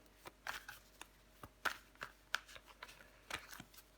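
Tarot cards are handled and laid over another card at close range, producing soft, quiet flicks and slaps in an irregular series of short bursts.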